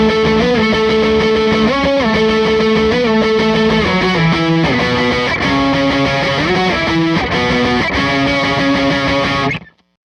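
Electric guitar played on the neck pickup through high-gain distortion, loud, thick sustained chords and riffs ringing without pause for about ten seconds before cutting off.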